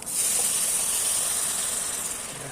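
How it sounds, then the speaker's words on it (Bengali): Water hits a hot pan with a sharp, loud hiss of steam that bursts up at once and keeps sizzling steadily for a couple of seconds, fading slightly at the end. "আমি জল দিয়ে দিচ্ছি, যতটা লাগবে জল"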